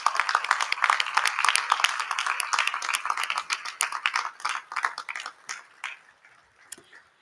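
Audience applause at a ribbon-cutting ceremony for an orthopedic and spine institute, a dense burst of clapping that stays strong for several seconds and then thins out and tapers off toward the end.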